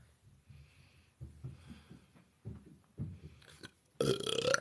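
A woman's deep, gurgling burps, several short ones at irregular intervals followed by a louder, longer belch at the close, recorded close up in a quiet room.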